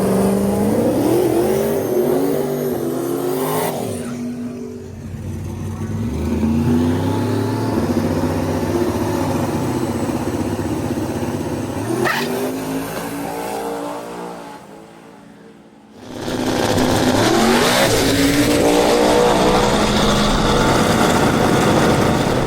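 Drag race cars Lt. Dan and Beater Bomb racing down a strip, loud sustained engine roar rising and falling in pitch, a sharp cutoff near the end, then another engine blasting back in at full volume.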